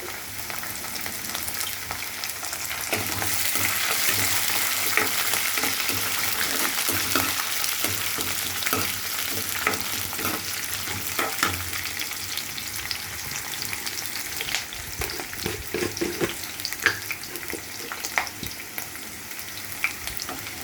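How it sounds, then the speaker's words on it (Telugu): Curry leaves, with urad dal, mustard seeds and cumin, fry in hot oil for vermicelli upma. The loud, steady sizzle runs throughout, with occasional pops and stirring scrapes close by. "ఇప్పుడు కొంచెం కరివేపాకు వేసుకున్నాను"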